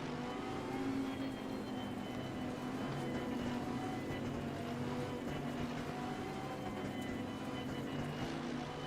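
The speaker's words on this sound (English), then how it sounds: "I do like the sound of this engine. It has a really nice note" A Lamborghini Huracan GT3 Evo racing engine in a racing video game, at Zandvoort, drones steadily at a constant pitch, a full and unbroken mechanical hum with no voices over it.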